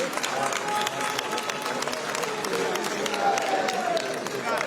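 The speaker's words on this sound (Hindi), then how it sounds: "तालियों की गूंज बनती रहनी चाहिए।" An audience at a national poets' conference in Jaipur claps steadily, a dense, continuous wash of applause filling the hall without pause.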